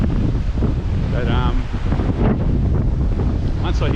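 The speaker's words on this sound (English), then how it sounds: "I don't know if you can hear me over the wind." Strong coastal wind buffets the microphone at Safety Beach on the Mornington Peninsula, a loud constant roar with gusty rumble, while a voice speaks partly buried beneath it.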